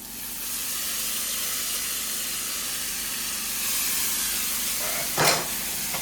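Steady broadband hiss of chicken sizzling in a hot pan, continuous and fairly loud, with a brief sharper burst near the end.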